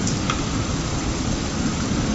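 Howling storm wind and steady heavy rain at sea, a dense continuous roar with a faint rumble of thunder beneath, loud and unbroken throughout.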